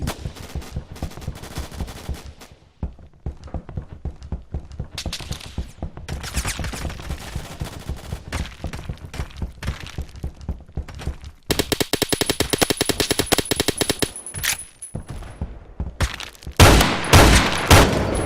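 Rapid bursts of suppressed gunfire in the game Phantom Forces crackle almost continuously, with brief pauses between volleys and a sharper, louder stretch near the end.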